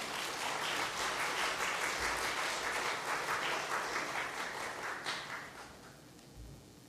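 A church audience applauds to welcome a speaker to the front, steady dense clapping for several seconds that fades toward the end, with no talk over it.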